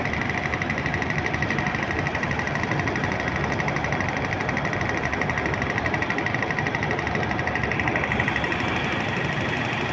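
A ship's engine runs steadily while the vessel maneuvers out between other ships, a dense continuous rumble with a fast, even mechanical pulse throughout and no voices.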